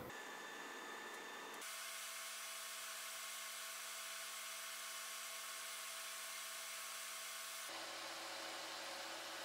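Atten ST862D hot air rework station at 450 °C and 50% airflow blowing on a faulty Nintendo Switch Lite charging port: a loud, steady, even airflow hiss with a constant whine that runs most of the clip.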